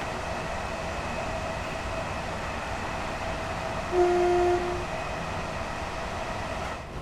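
Gatwick Express train crossing a viaduct in Train Sim World 3, a steady low rumble and cab hum with a brief tonal beep partway through, continuous and unbroken throughout.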